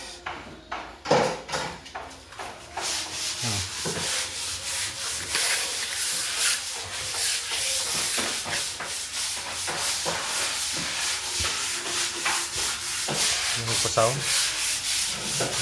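Hand sanding of an indoor wall after wallpaper removal, with long back-and-forth rasping strokes in a steady rhythm, loud and close, some strokes sharper and some softer, continuing without pause.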